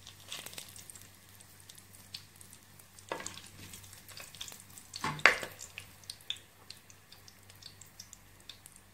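Three bay leaves hit hot oil for a mutton biryani, giving quiet crackling sizzles with a few sharper pops and bursts scattered across a low background hum.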